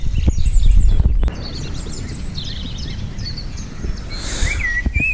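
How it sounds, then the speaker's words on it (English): Birdsong along a canal at dawn, several small birds chirping and trilling at moderate distance over soft outdoor ambience, with a brief low rumble and thump at the start. "just listen to all that bird song"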